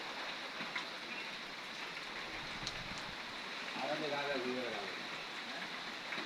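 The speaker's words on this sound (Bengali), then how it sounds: "প্রচুর বৃষ্টি বৃষ্টি কোনো কম না অনেক বৃষ্টি হইতে আছে দেখেন" Dense, steady hiss of rain falling at a distance, with a voice speaking briefly partway through.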